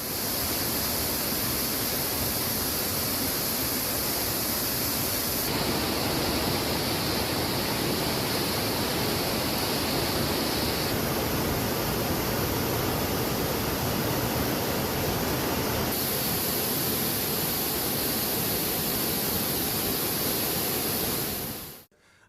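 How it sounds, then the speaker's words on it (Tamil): The flooded Megamalai waterfall roars after rain in a steady, loud, dense rush of falling water that continues without a break. "மேகமலை வனப்பகுதியில் பெய்த மழையால் மேகமலை அருவியில் வெள்ளப்பெருக்கு ஏற்பட்டுள்ளது"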